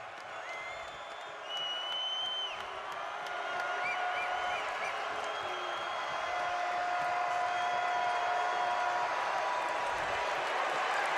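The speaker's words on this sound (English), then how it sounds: "the crowd here inside ExtraMile Arena coming to life for the first" Basketball crowd inside ExtraMile Arena, Boise State hosting Utah State, cheering and applauding in a sustained, swelling roar with scattered whoops and whistles, faint talk mixed in.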